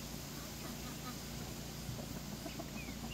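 Chickens, including Brahma and Jersey Giant hens, cluck faintly on an off-grid homestead, their calls sparse and half-buried in a constant broad hiss of outdoor background noise.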